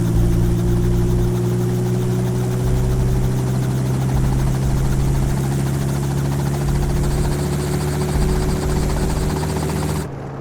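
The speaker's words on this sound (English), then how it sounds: "This type of helicopter is also frequently used by the American Environmental Agency." Helicopter used for methane leak research, a steady loud rotor and engine drone with rhythmic low thumping, close and continuous, cutting off abruptly at the end.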